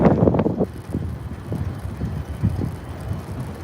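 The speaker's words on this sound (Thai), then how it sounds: "ลมแรงมากเลย" Strong gusting wind buffeting the microphone while cycling to work, heavy low rumbling bursts that come and go in uneven pulses, loudest at the start and easing slightly later.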